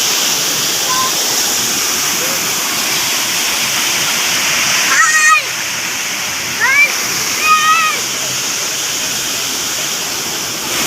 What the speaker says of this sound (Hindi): और यहाँ पर भी एक छोटा सी वाटरफॉल है